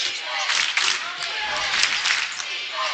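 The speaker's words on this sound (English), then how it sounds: "Crowd getting back into it." High school basketball crowd at Emporia versus Kapaun Mount Carmel cheering and clapping in a gym, a broad steady roar of voices and applause with a commentator talking over it.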